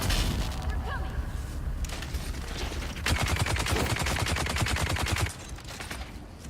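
Sniper shots and bursts of gunfire ring out in a video game, with rapid sharp reports clustering in the middle and faint game sounds around them.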